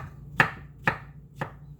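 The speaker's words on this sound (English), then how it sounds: "You can chop these up into tiny little pieces, or you can leave them as big full pieces." Three sharp knife chops on a cutting board while preparing a salad, about half a second apart, close and crisp, with quiet between strokes.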